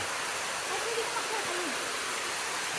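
Small waterfall on Patnanungan Island, a broad steady rush of falling water filling the whole clip, with a voice talking faintly beneath it.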